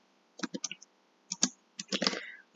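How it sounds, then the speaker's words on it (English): Brief bursts of keyboard clicking, a few quick keystrokes, then a pause, then another denser run of taps, close and fairly quiet. "Now we are going to type in our date."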